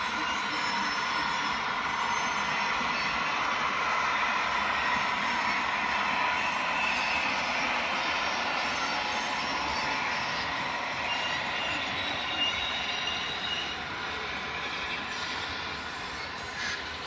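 A model train designated TV6 rolls steadily through the Westfield scene of a model railroad layout, with a continuous rumble and clatter from the wheels and cars that fades slightly toward the end.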